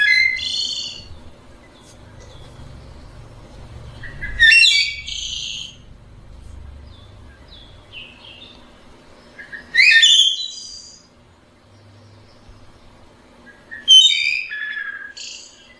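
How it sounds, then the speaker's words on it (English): High-voltage flame producing bird-like chirps, several bursts of rapid twittering whistles at intervals between quiet stretches with a low electrical hum, sounding like a small songbird calling nearby. "the bird sounds that you're hearing are coming directly from the flame"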